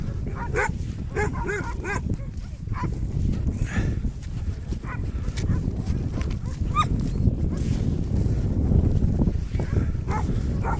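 Kangal dogs barking and yelping around a village in daytime, several dogs overlapping at a middle distance over a constant noisy outdoor background.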